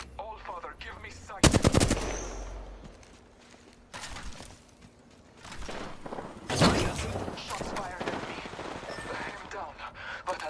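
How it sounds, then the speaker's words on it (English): Bursts of automatic gunfire in an Apex Legends match, loud rapid volleys around the start and again midway, with lighter shots and game noise in between. "Shots fired at me."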